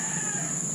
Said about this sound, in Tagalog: Kasi maririnig mo na ay puro ano ng ibon, tapos ng manok.